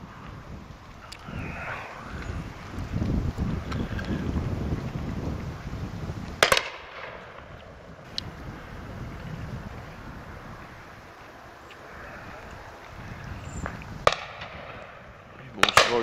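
Shotgun shots at a pheasant shoot ring out as sharp, distant cracks, one at about six seconds and a pair near fourteen, over wind and outdoor noise with occasional talk.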